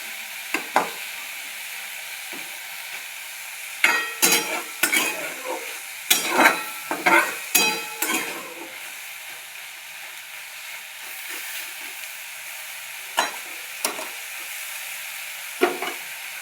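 Leafy vegetables frying in a kadhai, a soft continuous sizzle punctuated by several sharp scraping stirs of a spatula in a cluster midway, then a few more sparse stirs.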